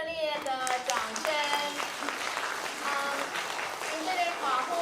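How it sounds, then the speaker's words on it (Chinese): A church audience at a Taiwanese-language hymn concert applauds warmly, a continuous spread of clapping that runs throughout while voices ring out over it. "我们再给他们热烈的掌声"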